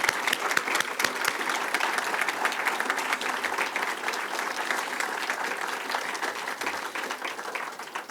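An audience at a press conference for an affordable housing groundbreaking breaks into a long round of applause, with many hands clapping in a steady, crackling wash and a few sharper claps standing out near the start.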